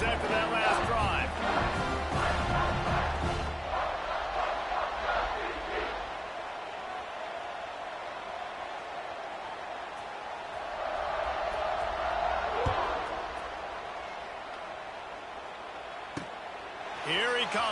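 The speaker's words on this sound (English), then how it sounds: "this crowd is feeling themselves after that last drive" A stadium crowd roars in the NCAA College Football 26 video game ahead of a kickoff. The noise is a steady, dense wash that swells again midway and holds at a moderate level throughout.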